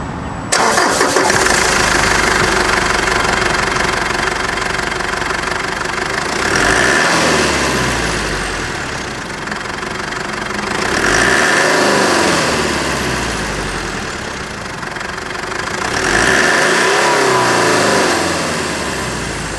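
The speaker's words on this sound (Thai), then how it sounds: "มาฟังเสียงเครื่องยนต์กัน" A Mitsubishi Triton 3.2L diesel pickup engine cranks and starts, then revs up three times in a steady cycle, each rise and fall clearly heard up close with no talking.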